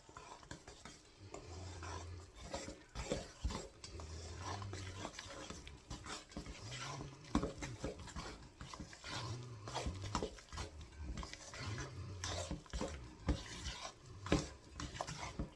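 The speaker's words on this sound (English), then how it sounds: "now we're stirring this in to form a dough" Flour being stirred into wet dough for chicken and dumplings, a steady scraping and spoon-on-bowl clatter in a home kitchen, with faint low hums and soft knocks throughout and no talking.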